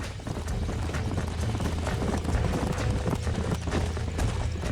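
Horse hooves clip-clopping in the Red Dead Redemption video game, with a steady, fast rhythm of hoofbeats over a continuous low rumble, as if riding at pace across open ground.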